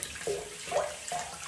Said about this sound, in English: I'm just filling the sink up just now